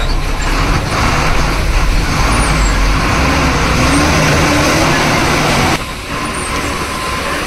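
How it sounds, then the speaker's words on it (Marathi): A bus approaches head-on along a narrow, rain-soaked road, its steady engine drone and road rumble loud and close throughout, easing slightly near the end. "समोरून एक बस आलेली आहे आणि जागा खूपच कमी आहे"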